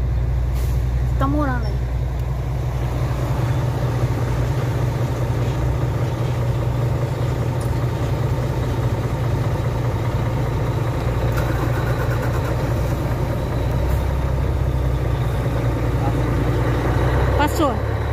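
A truck engine idles in a steady low rumble on a Brazilian road in the rain, with a brief hiss like an air brake near the start, while people talk over it throughout.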